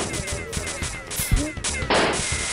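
Gunshots in the video game Me Bullet, a loose run of punchy shots and impacts at uneven intervals mixed with other game effects, ending in a brighter, louder burst.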